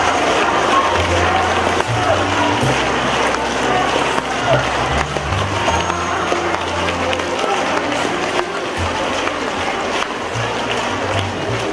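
Applause welcoming a speaker at a Buddhist dharma assembly in Penang, Malaysia, a sustained, dense wash of clapping from a large crowd with a low droning undertone throughout.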